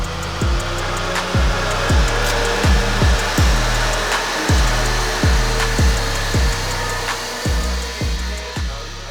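A Mercedes-AMG A45 S engine runs on a dyno during a tuning session, a loud sustained drone broken by a regular series of sharp, rising pulses, like repeated gear-change or rev cycles.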